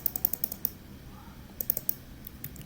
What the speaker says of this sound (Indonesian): atau tekan huruf R di keyboard